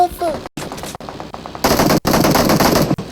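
Gunfire in a battle royale video game, rapid machine-gun bursts in several loud close runs separated by short gaps, with a voice briefly heard at the start.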